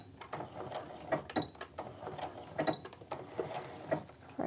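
Sewing machine stitching reinforcement seams on a fat-eighth fabric wristlet, a quiet run of short mechanical ticking and whirring bursts with brief pauses between, close by and alone.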